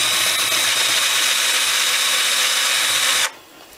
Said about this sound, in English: I have a 5/16 drill bit on here, so I'm just going to widen this just a very little bit.